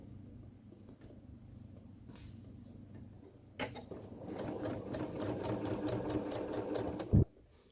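A sewing machine runs in a rapid, steady whir as it stitches fabric for a sleep mask. It starts partway through after a quiet stretch and ends with a brief louder clunk.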